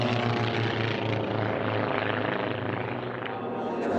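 A model racing airplane engine at a Formula 1 class championship race screams with a high, steady buzz as it flies past, loud and continuous with a slight shift in pitch and no talking.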